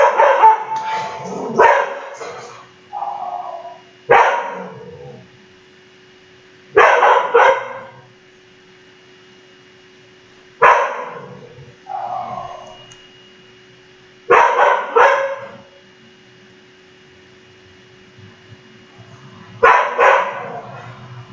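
A dog barks in repeated bursts of two or three sharp woofs separated by pauses of a few seconds, fairly close and loud, with a quiet steady hum underneath.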